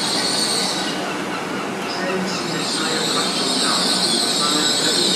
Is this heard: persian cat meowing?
no